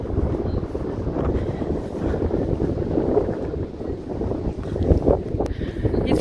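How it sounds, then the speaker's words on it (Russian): A breeze blows along a city street in Yeysk near the Taganrog Bay, a continuous close rushing buffet across the microphone with faint background sounds and no speech. "Ветерочек сегодня дует."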